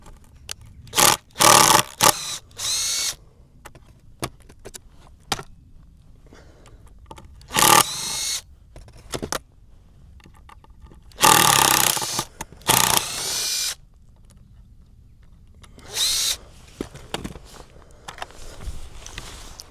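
Power drill driving screws into a wooden gate, several short loud whirring bursts separated by pauses, close up outdoors.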